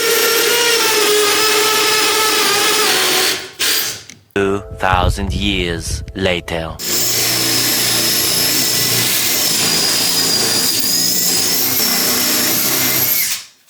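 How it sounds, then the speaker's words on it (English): A drill boring into a hotel room safe, a loud continuous high-pitched whine that varies in pitch, broken by a short stuttering stretch, then grinding on steadily; a brief voice is heard in the middle. "So that was the sound of our safe being drilled open"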